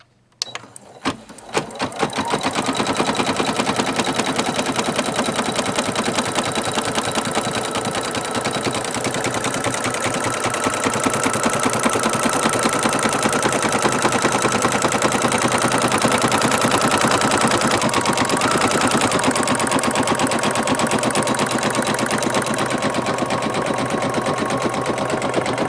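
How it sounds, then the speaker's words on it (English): A Singer Futura XL550 sewing machine embroiders with a loud, steady, rapid mechanical chatter that starts after a brief moment and runs unbroken at close range. "now I'm going to put my foot down, and I'm going to continue to embroider"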